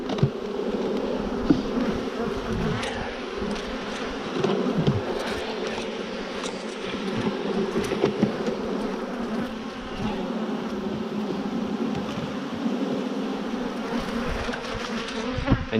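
Dense, steady buzz of honeybees swarming around hive frames lifted during a colony split, close and continuous for the whole stretch with no voices.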